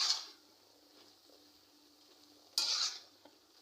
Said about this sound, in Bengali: যে আবার একটু নেড়ে নিলাম।